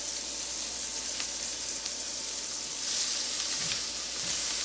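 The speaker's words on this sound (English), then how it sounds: "just making a steak on the stovetop, guys. I'm using a cast iron pan." Steak searing in a cast iron pan on a stovetop, a dense, even hiss and crackle that stays steady and fairly close, swelling slightly toward the end.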